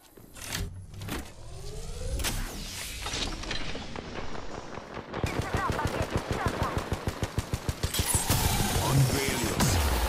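Rapid automatic gunfire in the Apex Legends battle game, a dense rhythmic burst of shots that grows loud and sustained in the second half, with scattered single shots, mechanical clatter and in-game sounds before it.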